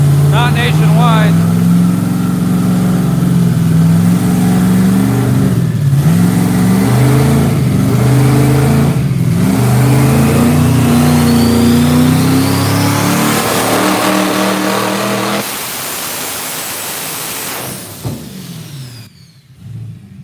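A car engine revs hard on a dyno during a pull, a loud sustained drone rising in pitch for about fifteen seconds before cutting off and winding down, with voices faint underneath.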